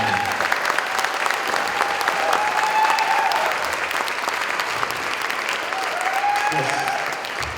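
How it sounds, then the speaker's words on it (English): A concert audience at a school instrumental music event applauds steadily and loudly, a dense wash of clapping holding for the whole stretch with no talk over it. "Can we have a huge round of applause for Shannon?"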